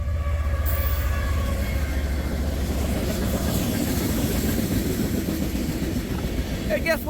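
A CSX garbage train rolls past close by, a loud continuous rumble and clatter of wheels on rails that swells and holds throughout, with a brief high screech near the end.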